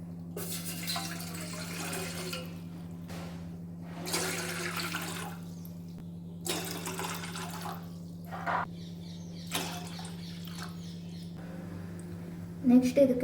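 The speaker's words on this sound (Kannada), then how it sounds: "ಒಂದು ಪಾತ್ರೆಯಲ್ಲಿ ನೀರು ಹಾಕ್ಕೊಳ್ತೇನೆ." Water is poured into a cooking pot on a stove in short bursts of splashing and running flow, separated by quiet gaps, over a steady low hum.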